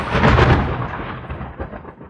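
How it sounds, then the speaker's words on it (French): Thunder from a Big Thunder Mountain ride soundtrack tied to an earthquake scene rumbles loudly in one rolling crash, then fades out over about two seconds with no voices. "dans un tremblement de terre, dans un bruit de tonnerre"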